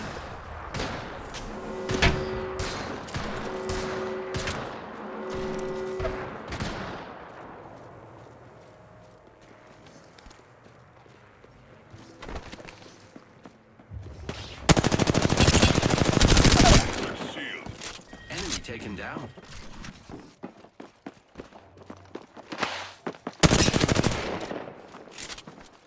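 Gunfire in Apex Legends comes in fast rhythmic bursts at the start, then quieter scattered shots and two loud, dense volleys later, with game sounds between them.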